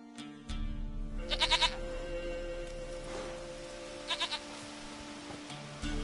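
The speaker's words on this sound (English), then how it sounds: "Goat of mine, dearest, sweetest goat." In The Witcher video game, a goat bleats in two short quavering bursts a few seconds apart over a quiet hum of ambience and faint rain.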